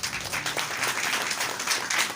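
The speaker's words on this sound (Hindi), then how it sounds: "जोरदार तालियां" Church congregation applauding at a pastor's sermon: dense, steady clapping from many hands, moderately loud and even, with no talk over it.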